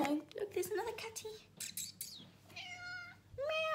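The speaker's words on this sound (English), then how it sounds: "Oh, look, there's another cat." A cat meows twice at close range in a home, each call a clear, drawn-out tonal cry following a stretch of scattered soft household noises and brief vocal sounds.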